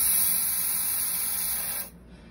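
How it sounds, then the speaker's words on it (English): A PreVal sprayer, held upside down with its nozzle pressed, vents excess propellant gas in a steady, loud, close hiss that lasts nearly two seconds and then cuts off sharply, leaving quiet. "That will release some of the excess gas that may be in the unit."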